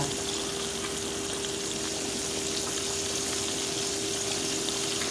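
Chicken deep frying fully submerged in oil, a steady, dense hiss and bubbling crackle that stays constant and fairly loud throughout, with a faint steady hum underneath and no voices.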